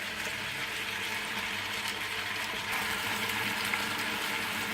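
Chicken seasoned with fish sauce and pepper fries in oil with a continuous close sizzle and bubbling hiss that holds steady throughout.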